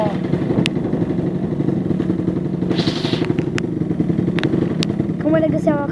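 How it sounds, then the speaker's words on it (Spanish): A motorcycle engine runs steadily at an enduro race event for quad bikes and motorbikes, a close, rough, clattering drone throughout, with people talking over it. "Miren esa moto."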